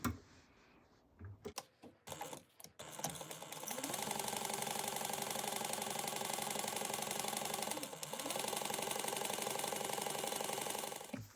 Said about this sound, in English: And then we are going to sew this at a 1/4 inch seam allowance.